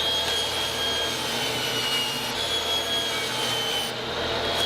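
Quilted maple boards are sawn in half for a guitar body, a continuous moderately loud whirring cut with steady rasping texture and no voices.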